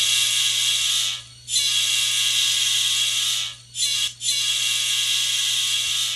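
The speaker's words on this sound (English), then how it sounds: "let's hear that P5 horn" Sound-decoder P5 horn on a ScaleTrains N scale Norfolk Southern SD40-2 model locomotive: loud, close, sustained multi-chime blasts, one long, then two short breaks, over a constant low motor hum.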